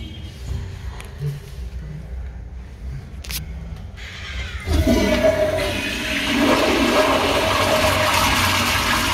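A toilet in a convention center men's restroom flushes with a loud, sudden roaring rush of water midway, after quieter room noise and a couple of clicks, then keeps swirling steadily to the end.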